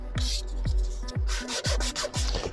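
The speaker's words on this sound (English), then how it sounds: "I'm just going to do a really light sand over the areas where we've got leather binder." Light sanding by hand over the leather of a steering wheel from a Range Rover L322 4.4 TDV8, steady rhythmic back-and-forth rasping strokes, close and fairly loud, no talking.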